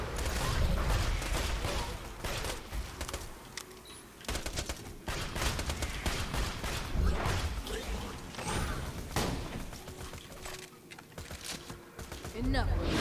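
Gunfire in Borderlands gameplay with a Maya build, dense bursts of shots, thuds and slams spread throughout, loud and busy, with voices talking over the fighting.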